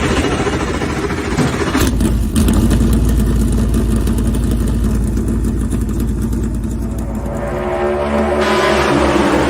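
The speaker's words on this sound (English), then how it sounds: "gentlemen, start your engine!" A race car engine at Watkins Glen fires up and runs loud and close, a sustained roaring drone with rising and settling revs throughout.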